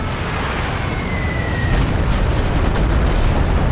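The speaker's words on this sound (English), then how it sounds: "Stuka bomb." A Stuka dive-bomber's bomb lands in a Company of Heroes 2 battle with a loud, sustained rumbling explosion and a falling whistle just before the blast, followed by a broad roar of debris and battle noise.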